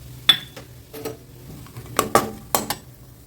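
Cashew nuts roasting in ghee in a pan while being stirred, sharp metallic scrapes and clinks of a utensil against the pan in irregular bursts over a faint background.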